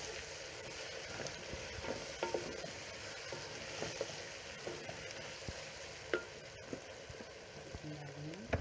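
A steady, soft sizzle of ginger garlic paste frying in a hot pan, with occasional scraping and stirring clicks from a utensil.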